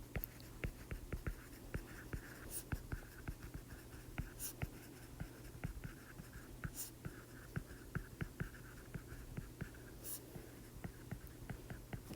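Pencil or pen writing on paper during a classroom math lesson, a steady stream of faint close scratches and light taps, alone and quiet.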